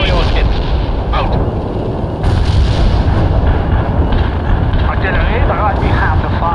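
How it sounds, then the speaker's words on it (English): Artillery strike in the real-time strategy game World in Conflict: dense booming impacts and rumbling blasts roll on loud and continuous, with a surge midway. "The artillery strike will hit right on the mark."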